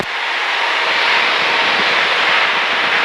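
A helicopter flies westbound at about 3,300 feet over the Boise River near Caldwell. Its cabin fills with a loud, steady, broadband engine and rotor roar that runs unbroken throughout.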